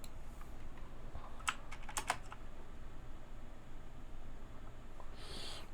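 Someone types on a computer keyboard nearby, pressing a short cluster of keys that includes a Ctrl+Enter combination. The clicks are quick and crisp over a quiet room, with a few isolated taps before and after. Nobody speaks.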